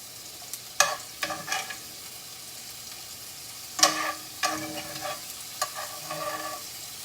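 Thin-sliced steak sears on a flat griddle, a quiet steady sizzle broken by several sharp scraping and clinking spatula strokes as the meat is moved around, with no voices.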